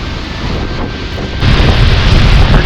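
A steady, dense roar of a waterfall in southern Iceland, loud and continuous, swelling heavier and deeper partway through.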